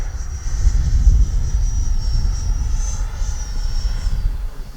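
An FMS F-86 Sabre 80mm electric ducted-fan RC jet flies overhead with a steady, loud whining roar and a high-pitched fan tone that wavers slightly as it passes, with no voices.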